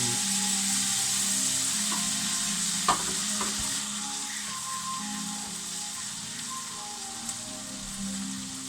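Carrots fry in a hot pan with a steady, close sizzle that continues throughout, with a few faint knocks and stirring clicks.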